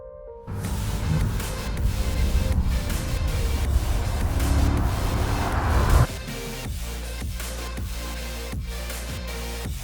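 A 2024 Cadillac CT5-V Blackwing driving in the rain, a loud broadband wash of tyre spray and engine that cuts abruptly into a lower, steadier cabin drone with rhythmic thumps.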